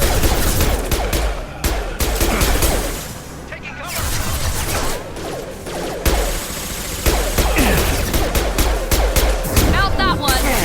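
Heavy gunfire in the Mass Effect 2 video game, rapid bursts and shots with impacts and crashes filling the scene loudly and continuously, with game voices speaking over the combat.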